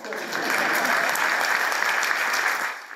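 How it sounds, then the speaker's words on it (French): An audience at the start of a stage show breaks into brief, full applause that swells quickly, holds steady for a couple of seconds and then fades. "vous pouvez applaudir, maintenant ça commence"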